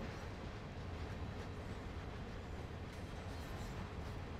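A freight train on the Peninsula route in Train Sim World 2020 rolls along the rails with a steady, dense rumble and faint rhythmic clatter, continuous and fairly close, with no voices.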